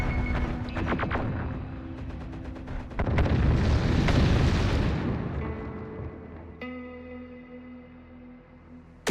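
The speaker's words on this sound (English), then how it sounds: "Hear that? Gunfire." Distant gunfire and explosive booms roll through a wide outdoor space in a post-apocalyptic shooter game, a dense rumbling barrage that swells and fades, followed by quieter scattered shots.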